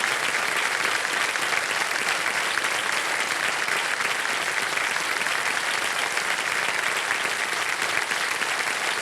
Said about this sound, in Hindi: तालियां बज जाएं सब बच्चों के लिए